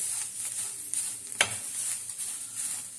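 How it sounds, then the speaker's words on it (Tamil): Curry leaves and turmeric frying in a hot pan: a steady soft sizzle and hiss with a sharp metallic clink of a stirring spoon midway, fairly quiet and close, no voices. "இப்போ இந்த சிம்மில் வச்சுட்டு கருவேப்பிலையை அப்படியே நம்ம சூடு பண்ணிக்கலாம்"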